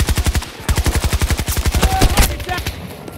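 Rapid automatic gunfire rattles close and loud in a Battlefield match, a long steady burst of evenly spaced shots that grows denser and then trails off near the end.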